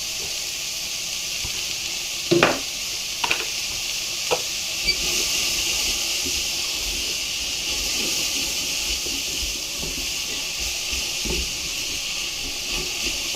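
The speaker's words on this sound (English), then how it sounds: "I'm just going to sweat this down until the leeks and celery start to go a little bit translucent" Leeks, celery and carrot sweating gently in a pan with a pinch of salt, giving a soft, even hiss throughout, with a few sharp utensil taps early on and no voices.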